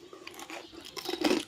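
Close, crisp crunches as teeth bite into an okoy, a crunchy fritter made with ground rice and a little baking powder and served with vinegar. Several bites crackle in uneven bursts and grow louder toward the end, with no talking.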